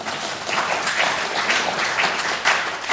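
Audience applause at a political speech in Bruges, a dense, steady wash of many hands clapping at moderate volume throughout, with no voices over it.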